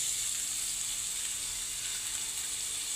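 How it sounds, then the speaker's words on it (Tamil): Ginger garlic paste frying in plenty of hot oil with onions, a steady bright sizzling hiss, close and even throughout, no voices. "இப்போது இஞ்சி பூண்டு விழுது ஆட் பண்ணிக்கலாம்."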